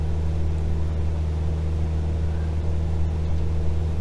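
Steady engine drone of an aircraft at full takeoff power in Microsoft Flight Simulator, a loud continuous hum holding level for the whole stretch with no voices.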